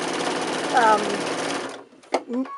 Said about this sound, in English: I just come in and actually start a new line of stitching